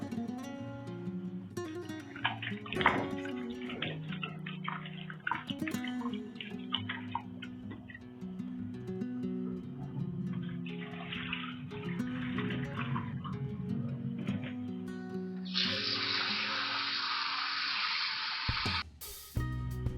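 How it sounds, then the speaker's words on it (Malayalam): Fish being washed under running water in a home kitchen while a traditional curry is prepared: a steady rush of water near the end, over a continuous bed of background music. "ഇനി മീന് നന്നായിട്ടൊന്ന് കഴുകിയെടുക്കാം."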